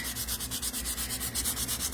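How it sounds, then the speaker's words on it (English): Close sandpaper rubs against a cheap lacquer coating to break the finish, each rhythmic back-and-forth stroke steady, with no talking. "We're not sanding off the finish. What we're doing is we're breaking the lacquer, because these are coated in a cheap lacquer"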